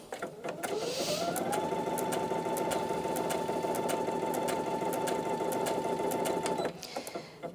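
A Brother Innov-is NV2700 sewing and embroidery machine stitches fabric, spinning up into a loud, steady high-pitched whirring hum close by that holds for several seconds before stopping, with small clicks at start and end.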